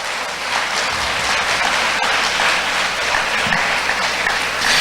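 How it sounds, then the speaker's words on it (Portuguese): A church congregation applauds in a broad, sustained burst of clapping that stays loud and even throughout, with no talking over it. "Você pode aplaudir o Senhor por isso?"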